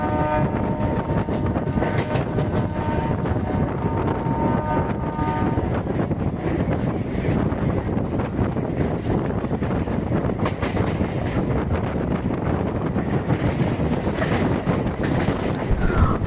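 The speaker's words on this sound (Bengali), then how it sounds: "আমাদের train 37843 Howrah Bardhaman galloping local তার তীব্র গতিতে এগিয়ে চলেছে সামনের দিকে" The Howrah–Bardhaman Galloping Local, train 37843, runs at speed, with a continuous heavy rolling rumble and rattle of the carriages alongside rushing wind, loud and steady throughout.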